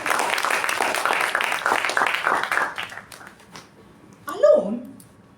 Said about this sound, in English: Let's give a huge round of applause for the speaker.